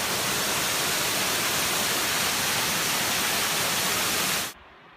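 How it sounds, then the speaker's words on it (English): A large waterfall at Crypt Lake pours down a rock face, a steady, loud, close rushing roar that cuts off abruptly near the end. "Here we are at the top of that large waterfall, looking down the rock face"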